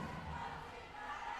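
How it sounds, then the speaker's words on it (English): Volleyball crowd and team bench chanting in support of Cignal during a tight late-set moment, a steady loud mass of voices filling the arena. "let's go Cignal from the crowd and their bench"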